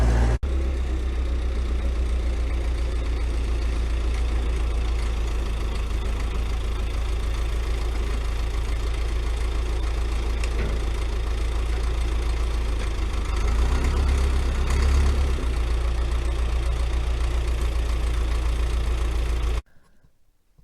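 A loader's engine idles with a steady low rumble and faint knock while its fork pushes down on a deck, running continuously before cutting off abruptly at the end.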